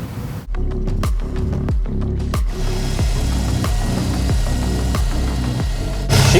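A modified Subaru WRX STI built to about 500 hp idles after a drive, its engine hot, giving a steady, close mechanical drone with regular pulses and no talking.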